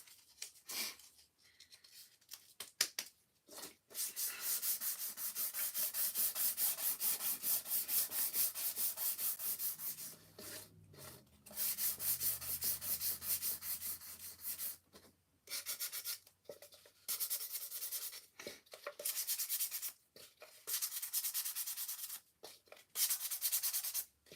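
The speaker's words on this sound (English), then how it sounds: "I am going to get a different sandpaper so I don't get yellow streaks" Sandpaper rubs back and forth over small painted wooden pieces, long hissing strokes in bursts separated by short pauses, close and alone.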